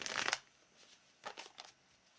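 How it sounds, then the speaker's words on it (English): Tarot cards from a Wizard's Tarot deck are shuffled in a quick riffle burst at the start, then a few softer papery flicks follow, faint and close with no talk. "Let me do one more shuffle to kind of like get that question vibe into the cards."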